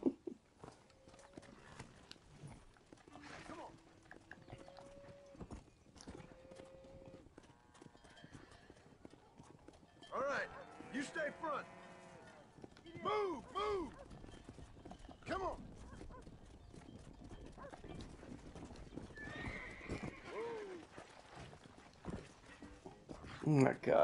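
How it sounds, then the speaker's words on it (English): Horse hooves clip-clop steadily through a Red Dead Redemption ride, with an occasional whinny, under a player's frequent talking and game music. "They're gonna make me ride the crap horse."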